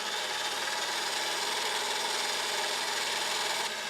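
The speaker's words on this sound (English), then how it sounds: "Continue whisking until your whites are light and fluffy" An electric whisk beats egg whites in a mixing bowl, giving a steady, continuous high whirring buzz that stays level and close throughout.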